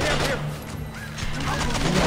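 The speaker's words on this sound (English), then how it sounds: "Wow, there's a lot of guys shooting at you right now." Rapid bursts of gunfire from many enemies fill a firefight in the stealth shooter Splinter Cell Conviction, dense and continuous, with a player talking over the din.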